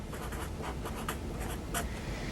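Numbers written by hand on paper while working a math problem: a steady run of short scratchy pen or pencil strokes, close and distinct, with no talking.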